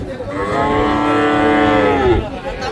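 At a cattle sale with bulls, heifers and young calves, a single long, loud moo comes from a nearby cow, deep and drawn out for a couple of seconds.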